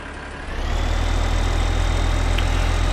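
A tractor engine idles in the video game Farming Simulator 15, a plough hitched behind; a steady low diesel rumble swells slightly as it starts up and then holds loud and even, close, with no talk.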